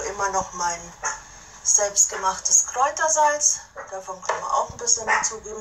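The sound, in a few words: dog barking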